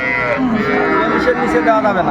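A cow at a cattle market gives one long, loud moo with a falling pitch, close by, over a faint background of crowd noise.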